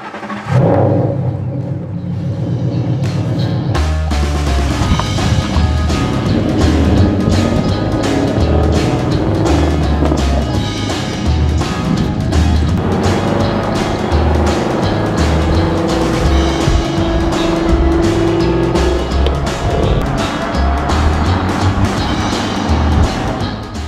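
A car fitted with a four-point harness is cranked after a short quiet moment, catches, and is then driven hard, its loud engine rumbling and revving continuously up close.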